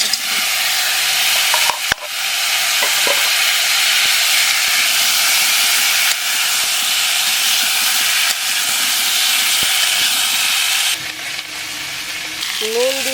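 Vegetables dropped into hot oil for a Bengali curry with mete alu and fresh koi fish, giving a loud, continuous close-up sizzle and hiss with a few clicks and a brief lull partway through.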